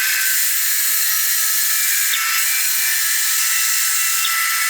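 A saw fitted with a coarse 2 TPI blade cuts a 3.5-inch piece off a length of wood, giving a steady, continuous hissing rasp at close range with no pauses.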